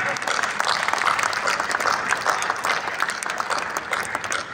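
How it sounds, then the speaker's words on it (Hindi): Audience applause at an evening musical stage show in Mahal Chowk, Alwar, a dense steady clapping from a crowd that lasts throughout with a faint murmur of voices underneath. "वो आपकी तालियां आकाश तक मांगता है"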